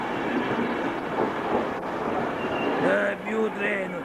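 A train rumbles past at a railway station, a broad continuous roar with faint wheel squeals rising toward the end, while people chat nearby over the noise.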